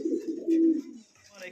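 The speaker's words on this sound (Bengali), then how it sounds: "এত সুন্দর এক জোড়া রেড লাহোরি কবুতর" A pair of Red Lahori pigeons coo close by at a pigeon sale, giving low, throaty, rolling calls with one longer, steadier coo in the middle and quieter background noise.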